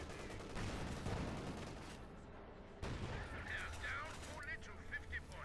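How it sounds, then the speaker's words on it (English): Machine-gun and cannon fire from a Panther tank in the World War II strategy game Company of Heroes 2, with dense bursts of battle noise running throughout under a commentator's continuous voice. "Panther 4 there, blasting away the machine guns at the section out in the open"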